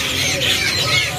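A red-winged woodpecker at a bird market kiosk gives harsh, rasping squawks, close and fairly loud, in a brief burst.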